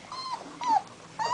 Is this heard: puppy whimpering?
yes